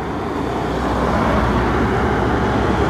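Passing cars create a steady, dense roadway rumble that holds at an even loudness throughout, with no distinct vehicle passes and no voices.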